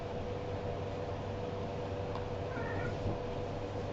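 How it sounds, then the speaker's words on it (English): A house cat gives a faint, short meow, almost buried under a constant loud hiss of background noise. There is no talking. "Cat, you're annoying. Quit that."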